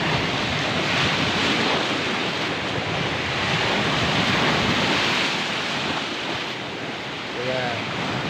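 Strong sea waves crash and wind gusts hard at the shore during Typhoon Kristine, a loud, continuous rushing roar with wind buffeting the microphone and a faint voice underneath.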